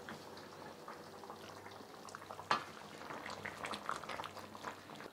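Aydın-style yuvarlama dumplings cooking in a pot until the liquid is absorbed, giving a quiet, continuous bubbling simmer with a few louder blips.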